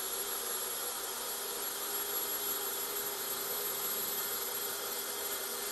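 A jig grinder spinning a Continental Diamond wheel against a low-profile sine plate gives a steady, even high-pitched whine with constant airy hiss, unbroken and moderately faint throughout.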